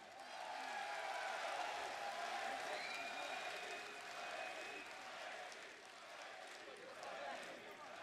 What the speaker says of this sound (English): Give that man a round of applause, guys,